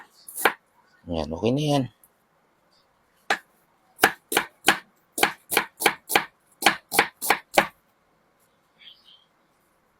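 A kitchen knife slicing food on a cutting board: a run of about a dozen crisp, evenly spaced chops, close and clear, with brief speech before the cutting starts.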